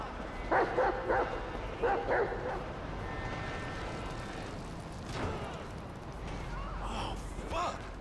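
Chop, a dog in the video game GTA V, gives a few short barks and yips in bursts, then sniffs and whimpers quietly, with game background sound and a voice talking intermittently.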